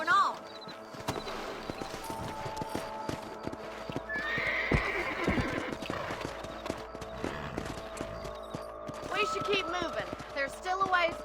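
Horses gallop in the video game Red Dead Redemption, with steady rapid clip-clop hoofbeats and a whinny throughout, while a character speaks over the riding.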